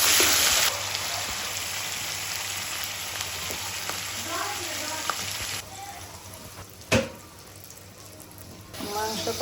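Meat frying in a pan with onion, ginger and garlic, a steady sizzle running throughout with one sharp clatter partway through and faint stirring under it.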